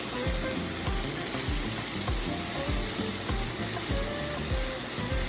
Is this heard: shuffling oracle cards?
no